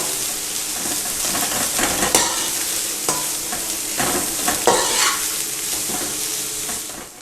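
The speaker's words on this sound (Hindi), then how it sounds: "सब्जियों को आपने बिल्कुल लाइट फ्राई करना है।" Vegetables being lightly stir-fried for chicken chow mein, a steady close sizzle with stirring scrapes and a few sharp clinks of utensil on the pan, continuous throughout.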